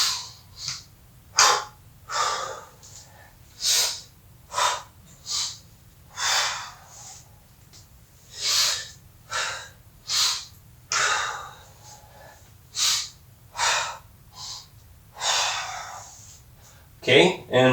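Deep, rhythmic breathing during a warm-up exercise routine: a steady run of forceful breaths in and out, each about a second long, close and fairly loud, with no talking.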